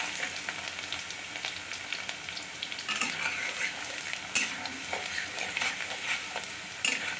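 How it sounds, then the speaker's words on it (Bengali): Garlic fries in hot oil for a methi chicken dish, a soft continuous sizzle with occasional spoon scrapes and stirring clinks, close and quiet with no talking. "এবার রসুনটাকে আমি কিছুক্ষণ ভাজবো"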